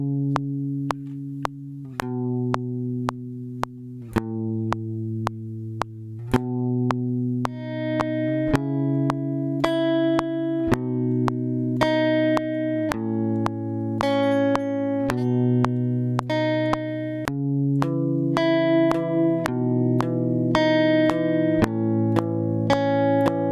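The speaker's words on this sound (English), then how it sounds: "Here comes my fake guitar playing." Electric guitar-style chords in a beat production, played as a slow, steady series of sustained, effect-processed chords that change every second or so, clear and upfront with no talking.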